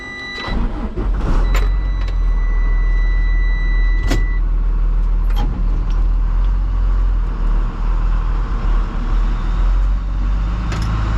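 Heard from inside the cab, a tree-service truck drives back to the shop with a constant low engine drone, occasional clicks and rattles from the cabin, and no talking.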